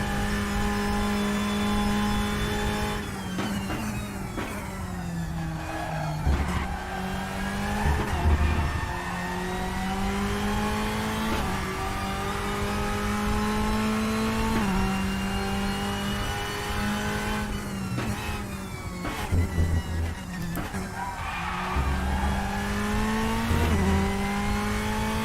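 A Ferrari 488 GT3 Evo racing engine on a timed lap in the RaceRoom game, a loud continuous roar that climbs through the revs with sharp gear shifts and braking downshifts in repeated cycles.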